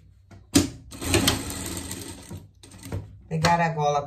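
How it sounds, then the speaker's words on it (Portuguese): A sewing machine stitches around the small collar of a pet parka in short whirring runs broken by pauses and faint clicks, with a voice speaking intermittently nearby. "passar uma costura por tudo, deixar só em cima pra virar a peça."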